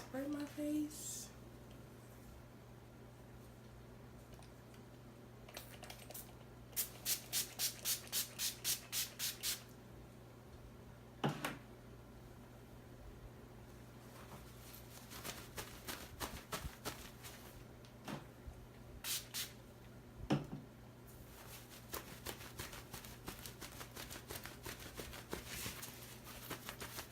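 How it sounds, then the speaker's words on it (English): Setting spray misted onto a face after makeup: several clusters of quick, crisp pump bursts, the longest a rapid run of about eight sprays, over a low steady hum with quiet pauses between. "I'm going to set and spray my face."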